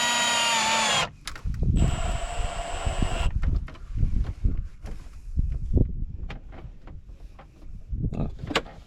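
Power drill driving a screw into trim on a diesel pickup during repair, heard as a short high whine burst followed by clattery handling knocks and rustles, close by with no talk.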